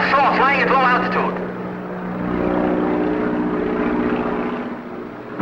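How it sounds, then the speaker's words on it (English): Low-flying seaplane droning offshore, a steady propeller engine hum with tonal harmonics that swells slightly, heard after a brief burst of speech at the start. "Seaplane offshore, flying at low altitude."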